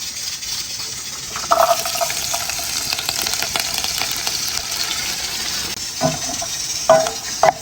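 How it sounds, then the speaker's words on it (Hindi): Chopped garlic and green chillies fry in hot oil in a pan, giving a steady, fairly loud hissing sizzle throughout, broken by a few clattering stirs near the start and end, with no talking. "पैन में ऑयल डाल दिया है, थोड़ा ऑयल गर्म होगा तो मैं इसके अंदर जो है ये लहसुन और हरी मिर्चें"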